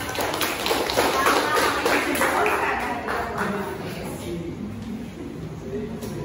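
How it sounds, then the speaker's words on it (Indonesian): Classmates clap for a student's presentation in a classroom microteaching session, a dense patter of hand claps that is loudest at first and gradually thins, with some voices mixed in. "Jojo boleh tepuk tangan buat"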